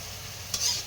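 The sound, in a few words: cooking Bisaya vegetable dish, sizzling in pan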